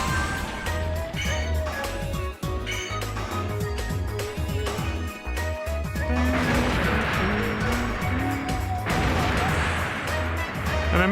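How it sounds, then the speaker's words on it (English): Music from the Japanese Sonic CD soundtrack, from the stage where Sonic races Metal Sonic: a loud, dense, upbeat game track with a driving bass rhythm and layered synth melody that plays continuously with no talking. "This one is from the Japanese soundtrack of Sonic CD, or the that stage where you fight, where you race against Metal Sonic"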